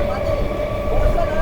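Barddhaman–Rampurhat MEMU local passenger train rounding a curve on the Bolpur–Rampurhat line, with a steady close rumble and a thin sustained wheel tone over the running noise.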